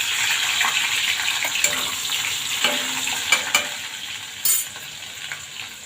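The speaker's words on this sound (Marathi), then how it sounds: "लसूण आणि कढीपत्ता टाकून घेते आणि 1 हिरवी मिरची टाकणार आहे।" Garlic, curry leaves and a green chilli sizzle in hot oil for a tempering, a steady close crackle with occasional sharper pops and spits, no voices over it.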